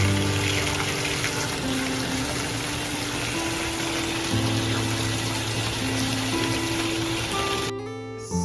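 Bathwater gushes steadily from the tap into a filling bathtub for a spa-day bath with a pink bubble bar, a loud, even rush that cuts off near the end.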